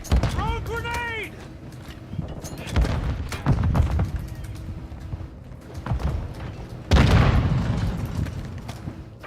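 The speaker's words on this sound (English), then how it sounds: "Throwing a stun grenade!" A stun grenade goes off in Call of Duty MWII, a heavy booming burst late in a busy firefight with scattered gunshots, thuds, earlier blasts and game voices calling out.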